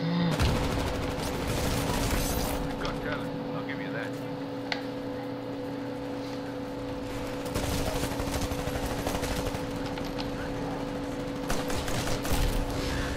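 Sustained automatic gunfire rattles through a Titanfall match, heavy bursts running almost unbroken alongside a steady mechanical hum, with voices coming through at times.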